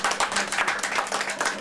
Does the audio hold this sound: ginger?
no